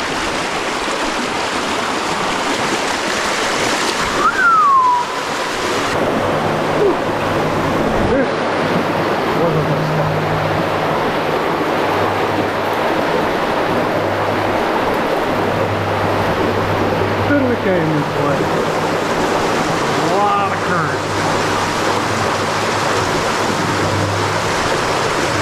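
A trout creek running at unusually high water rushes steadily and loudly close by, a constant broadband roar with wind buffeting the microphone and a few faint brief voices underneath.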